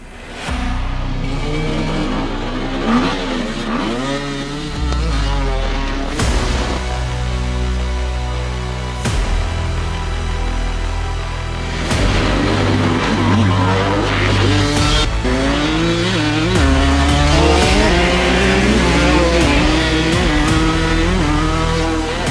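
Enduro motorcycles roar off the start line of a race, engines revving hard and layered together, loud and continuous with sharp throttle bursts and no talk.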